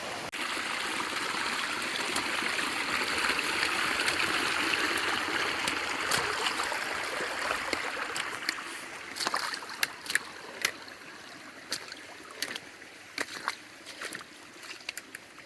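Water streams and trickles steadily across a flooded hiking trail on the Appalachian Trail in New Jersey, a continuous broad rush close by during rain, with a few sharp clicks and knocks standing out in the later seconds.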